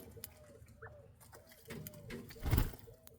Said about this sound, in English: Sounds like the doves are happy about it.